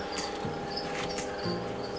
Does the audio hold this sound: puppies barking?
no